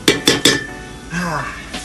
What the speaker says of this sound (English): Shake the pot a little bit.